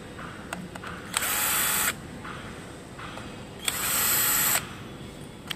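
A power screwdriver removes screws from the instrument cover of an EVERCROSS HB16 electric scooter in two steady whirring runs, each under a second long, with faint clicks and handling noise around them.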